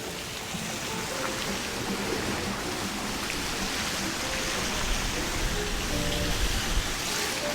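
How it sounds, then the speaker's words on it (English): Small decorative waterfall on the deck of the Carnival Mardi Gras cruise ship, a constant dense splashing and rushing of falling water that stays steady and fairly close. "little waterfall action."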